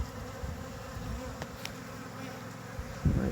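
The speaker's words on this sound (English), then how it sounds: "Little dark little Saskatraz bee." Dark Saskatraz honey bees buzzing around an open hive during hive work, a steady close drone with several overlapping wingbeats and a louder bee passing near the end.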